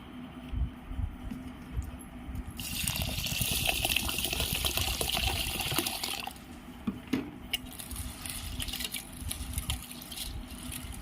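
Water gushes and sloshes for a few seconds as black gram lentils and fenugreek seeds are swirled and rinsed, followed by quieter drips and wet squishing.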